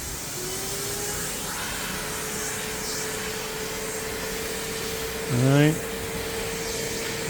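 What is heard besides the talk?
EGO 56v wet dry vacuum running on speed 2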